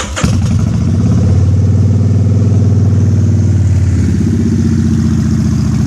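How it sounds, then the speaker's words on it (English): A Harley-style motorcycle with an uncorked Vance & Hines exhaust idles high with the choke pulled out, a loud, close, throbbing engine drone that drops slightly in pitch near the end. "What pulling that choke out does is gets the revs up so that the oil gets to the overhead cams quicker."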